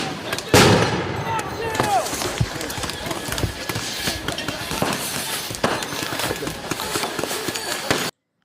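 Crowd-control munitions, CS gas canisters and non-lethal grenades, go off at a street protest in a loud sharp report, followed by a busy stretch of scattered pops, bangs and crowd noise with voices mixed in.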